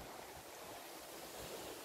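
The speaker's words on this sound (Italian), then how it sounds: "È una nottata, c'è molto vento" Strong night wind on Giglio island with surf nearby, a constant loud roaring rush buffeting the microphone, no voices.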